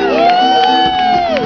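Crowd cheering and whooping for a band at a live show, a loud continuous roar with tonal instrument notes ringing through it.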